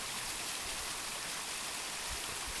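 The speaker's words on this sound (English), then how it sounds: "It's been raining a lot, and so we've got a miniature waterfall formed." A small waterfall, formed by heavy rain in woodland at the Priory Groves in Brecon, pours with a constant close hiss and gurgle of rushing water, even and unbroken for the whole moment.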